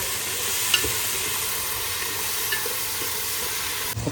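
Tomato masala sizzles and fries in a pan while being stirred, a steady close hiss with a few soft scraping clicks throughout.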